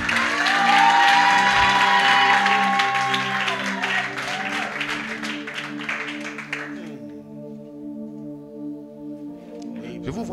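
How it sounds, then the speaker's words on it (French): A church congregation applauds and cheers loudly for the Holy Spirit, with clapping, whoops and raised voices over a sustained organ-like musical backing; the crowd noise fades after about seven seconds, leaving the held music. "Acclame puissamment le Saint-Esprit."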